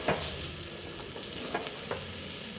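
A pan of chilli tempering sizzles steadily as asafoetida goes in, with a few sharp scrapes of a spoon stirring through the hot oil, close and continuous with no talk.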